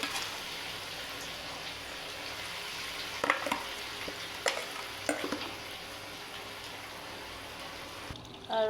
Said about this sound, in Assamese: ইয়াতে মই দি দিছোঁ বিলাহী পিচি লোৱা বিলাহীখিনি দি দিছোঁ।